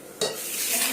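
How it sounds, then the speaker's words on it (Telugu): Chutney is mashed with a wooden dal masher in a pot, a sudden wet squelching press that starts after a brief quiet moment and continues as a close, moist crushing sound. "పప్పు గుత్తితో చేస్తున్నా పచ్చడి"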